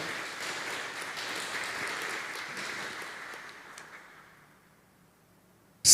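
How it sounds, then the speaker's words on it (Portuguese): A church congregation at Mass applauds itself, a dense wash of clapping that runs steadily for about four seconds and then dies away into near silence. "Dá uma salva de palmas para vocês mesmo."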